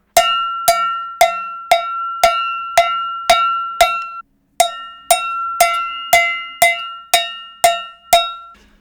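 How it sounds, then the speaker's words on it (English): Steady cowbell strikes, about two per second, each a bright metallic clank with a ringing tone and quick decay; one short pause midway. "There can be a little more push to a cowbell if you're pointing the open side towards the microphone"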